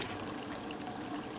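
Water in a garden water feature trickles in a steady, close, continuous wash with no voices.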